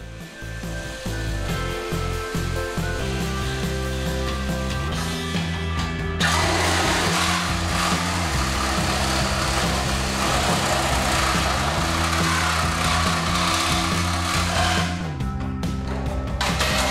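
A power tool cuts the back end off a Honda three-wheeler frame, a loud steady grinding whine with shifting pitch, starting with a few short bursts, then a sustained, harsher cut that continues to near the end.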